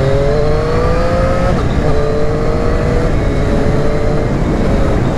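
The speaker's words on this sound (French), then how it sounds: "je fais un poil d'accélération, j'essaye le shifter" A 2020 Triumph 765 Street Triple RS motorcycle accelerates hard, its engine note climbing in steady rising sweeps broken by quick quickshifter gear changes, loud and close throughout with a voice briefly underneath.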